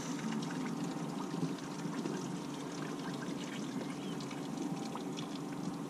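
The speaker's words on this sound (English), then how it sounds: "the reason I brought the lid is so that I can tip out your water" Pasta cooking water tipped out from a pan held behind a lid into a river from a riverbank beside a small rib boat, a steady close splashing trickle and pour lasting throughout.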